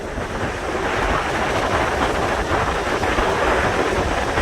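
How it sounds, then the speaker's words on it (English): Strong wind of about 40 miles an hour roars at Niagara Falls, a loud, steady broadband rush that carries the falls' spray and surf-like water noise, close to the microphone and constant throughout. "About a 40-mile-an-hour wind."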